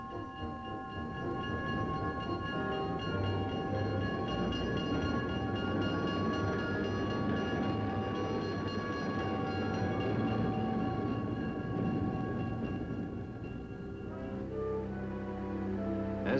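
A train rumbles steadily past at close range in Ottumwa, Iowa, a continuous heavy roar with sustained tonal hums that eases slightly near the end.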